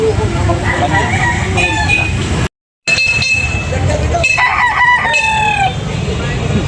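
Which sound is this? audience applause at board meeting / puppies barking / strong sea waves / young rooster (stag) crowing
young rooster (stag) crowing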